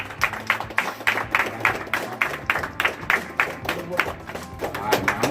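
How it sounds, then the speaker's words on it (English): An audience applauds, with a run of loud, fairly even claps and slaps that keeps going throughout. "Give yourselves a round of applause."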